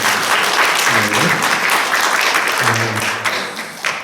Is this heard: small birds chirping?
no